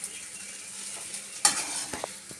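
Tomato rice with chillies, curry leaves and peanuts is stirred in a pan, giving a soft, faint sizzle with a couple of brief scraping strokes.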